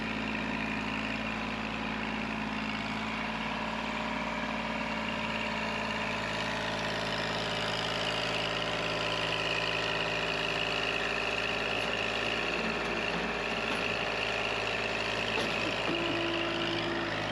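A small tractor engine idles steadily throughout, a continuous close rumble with a faint higher whine, no voices.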